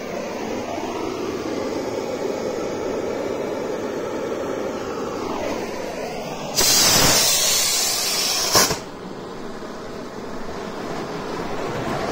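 A Diwali anaar firework fountain hisses steadily as it propels a toy jet car, then a louder, harsher burst of spraying roar breaks in before settling back to a quieter whoosh with no talking.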